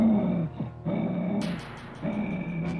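A poorly trained dog growls low and rough, then breaks into a few sharp higher yips or snarls, close and fairly loud, with a steady background hum underneath.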